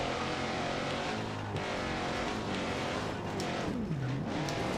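Car sliding around with tires squealing and skidding over a continuous engine roar, near and loud, with no voices.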